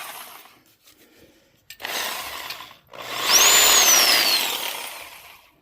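A tire valve stem on an old rim is cut off, a short rough cutting burst followed by a longer loud grinding, scraping pass with a high squeal sweeping downward. No voices.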